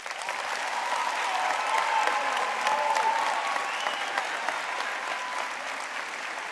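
A high school commencement audience applauds, many hands clapping in a sustained, moderately distant roar, with faint whistles or cheers rising over it midway.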